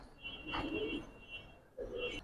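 Giribaz pigeons cooing in two soft, low murmuring bursts, the first longer, the second brief after a pause, with a faint steady high tone in the background.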